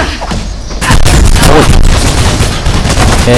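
Gunfire in Mirror's Edge: a loud, sustained barrage of rapid shots and booming bursts that erupts after a brief quieter moment and keeps hammering close by, with no talking.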